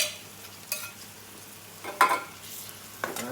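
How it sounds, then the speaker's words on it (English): Onions softened after about ten minutes of cooking, stirred with added ginger garlic in a pan for Bombay aloo, give a low steady sizzle broken by three brief scraping stirs, close and fairly quiet, with no talking. "the onions have been cooking away"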